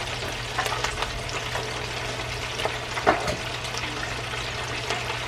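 Chicken wings fry in hot oil, four pieces in the pan, with a constant soft sizzle, scattered pops and brief clatter, close up and without talk.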